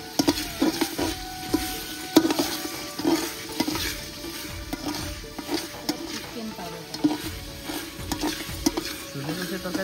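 Chicken meat masala fries in a pan while being stirred, a busy sizzle punctuated by frequent scraping and clanking strokes of the spoon against the pan, close and uneven in rhythm.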